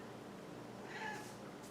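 Small cat gives a brief, faint meow indoors, a single soft cry against quiet room noise.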